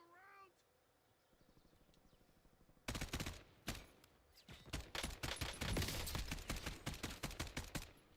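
A teammate's gunfire in a video game, dense rapid bursts of automatic shots that start abruptly and keep rattling loud and close, preceded by a quieter stretch with a brief meow-like sound.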